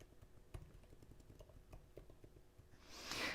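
Computer keyboard typing at a desk, a quiet run of soft irregular key taps with a brief louder hiss near the end.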